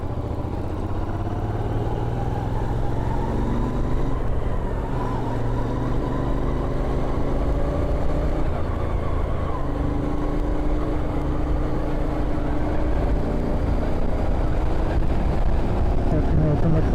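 A Royal Enfield Continental GT 650 motorcycle engine drones steadily and loudly while riding, a continuous close rumble with wind throughout.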